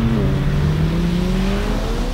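The six-cylinder engine of a BMW M3/M4 revs hard with a loud, close, droning snarl, its pitch sliding gradually downward over about two seconds.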